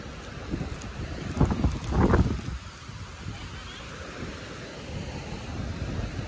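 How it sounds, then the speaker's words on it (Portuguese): Wind gusting over a beach while a kite is flown, a steady rough rushing blowing against the microphone with a couple of stronger buffets early on. "olha o vento que tá, mano"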